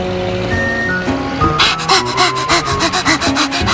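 An animated dog pants in sweltering heat, with quick rhythmic breathy puffs that start partway through and repeat loudly and close up, over a soft musical bed.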